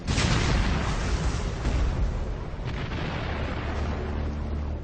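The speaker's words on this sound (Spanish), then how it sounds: "Pero justo antes de cruzarlo se oyó una explosión." An explosion sound effect for a war documentary about a bridge crossing: a loud, close blast of broad roaring noise that slowly tails off over several seconds with no voices.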